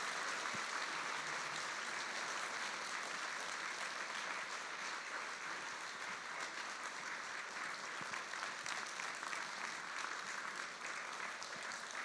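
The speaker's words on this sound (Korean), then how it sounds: "박수 부탁드리겠습니다." Sustained audience applause in a church hall after a lecture, dense steady clapping from a large crowd, loud and continuous without pause.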